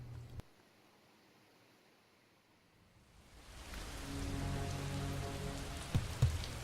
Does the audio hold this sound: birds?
no